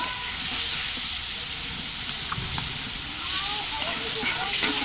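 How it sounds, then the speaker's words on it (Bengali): Onion, green chili and garlic frying in oil in a pan, a steady loud close sizzle and hiss with faint scattered crackles throughout. "তো প্রথমে তেল দিয়ে নিলাম, তারপর পেঁয়াজ, কাঁচামরিচ, রসুন দিয়ে দিলাম, ভালোভাবে কষিয়ে নিচ্ছি।"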